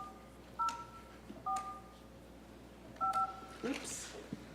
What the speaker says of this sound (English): Do I have to dial something first?